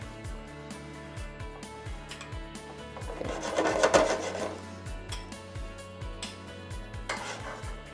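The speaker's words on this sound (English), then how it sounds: "with the back of the spoon, is slowly incorporate that butter into your sauce" A spoon scraping and rubbing in a pan while stirring butter into a red wine reduction, a soft rhythmic scraping over a steady background hum, growing louder in the middle.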